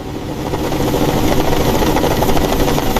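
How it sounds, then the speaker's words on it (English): A helicopter's rotor thumps loudly and steadily overhead during a crew's splashdown recovery practice, with a constant engine whine, close and continuous for the whole stretch. "Helicopter crews practiced their approach patterns for the eventual splashdown."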